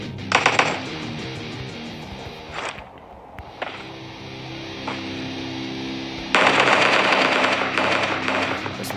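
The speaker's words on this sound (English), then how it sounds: "Shooting in the distance." Distant gunfire in the mobile battle-royale game PUBG Mobile, a few sharp bursts early on, then muffled game ambience and a louder stretch of noisy activity toward the end.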